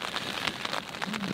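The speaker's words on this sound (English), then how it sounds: "and the storm woke me up" Steady storm rain pattering on a tent outside in Alaska, a dense, continuous hiss with individual drops tapping close against the fabric.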